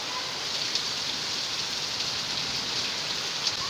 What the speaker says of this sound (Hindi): और अब बारिश तेज़ होती जा रही है।